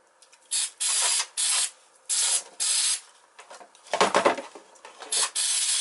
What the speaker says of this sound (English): Carburetor cleaner. Give it the old gun there.